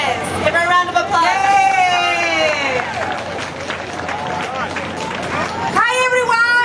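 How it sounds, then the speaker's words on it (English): A May Day rally crowd claps and cheers, with whoops and shouts rising over steady, dense applause that swells near the start and again at the end. "Give her a round of applause."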